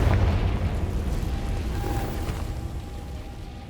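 A Confringo fire spell in Hogwarts Legacy bursts into a loud, deep explosion, its booming rumble fading gradually over a few seconds.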